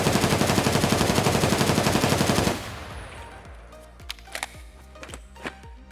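An MK47 rifle in the video game Escape From Tarkov fires a rapid full-auto burst for about two and a half seconds, then stops, leaving a few faint clicks and scattered small sounds with no talking.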